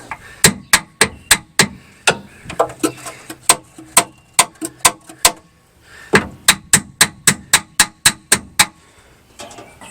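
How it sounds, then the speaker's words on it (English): A hammer taps repeatedly on the starter motor of a 1964 Ford Falcon Sprint, loud close metallic knocks in quick rhythmic bursts with a short pause in between, no talking. "Let's get a hammer, give it a little tap."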